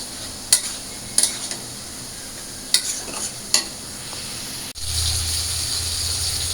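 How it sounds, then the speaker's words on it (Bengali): Potatoes and vegetables stir-fried with green chillies, turmeric and black cumin in a pan, a few sharp scrapes and clinks of a stirring utensil over a steady low sizzle that swells louder near the end. "তো আমি মশলা দিয়ে আলু আর সবজিগুলো ভালো করে কষায় নিলাম।"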